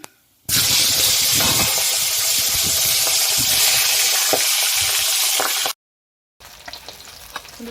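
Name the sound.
katla fish frying in oil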